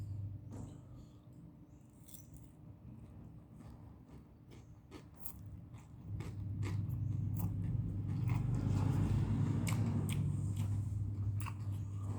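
Crispy pork rinds being chewed close to the microphone alongside a noodle meal, a run of small crunchy bites and mouth sounds over a low background rumble that grows louder midway.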